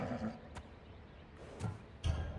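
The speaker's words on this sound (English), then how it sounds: "I heard the neigh of a fierce horse." Horse neighing in the Assassin's Creed Odyssey video game, a few short faint whinny bursts over a low ambient bed, the loudest near the end.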